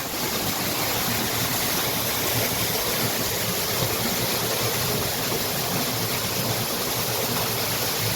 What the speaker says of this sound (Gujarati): મોટર ચાલુ કરી દીધી છે.